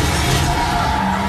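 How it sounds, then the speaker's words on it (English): A crash between two cars in the racing video game Need for Speed Carbon: a loud, dense burst of shattering glass and metal impact, continuous noise through the whole short moment with a faint engine tone underneath. "Why'd you just smash into my car?"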